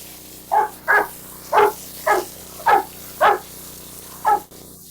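A Cane Corso being washed barks eight times at a steady, even pace, each bark loud and close with short gaps of quiet between them.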